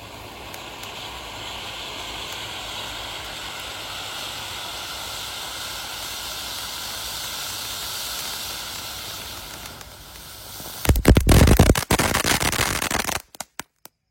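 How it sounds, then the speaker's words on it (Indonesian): A Connect Fountain size 4 cone firework fountain burns with a long, steady, loud hiss that fades briefly, then flares into a harsher, crackling burst before cutting out abruptly at night. "Yang kita nyalakan ada Connect Fountain ukuran 4. Sudah menyala bosku."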